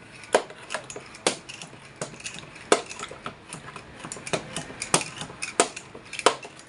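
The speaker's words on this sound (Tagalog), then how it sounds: "halo-haloin natin siya hanggang mahalo-halo natin siya" A utensil stirs a cleaning mixture in a pot meant to whiten the pots, giving irregular close clinks and scrapes against the metal with a steady gritty swishing between them.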